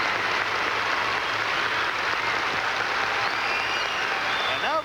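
A crowd at a 1990 World Figure Skating Championships men's free skate applauds after a performance, a dense, sustained roar of clapping from a large arena audience, with a few faint whistles near the end.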